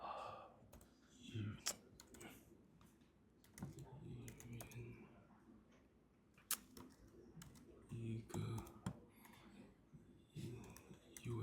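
Quiet typing on a computer keyboard, with irregular soft key clicks and short bursts near the mic while a person talks now and then in the background.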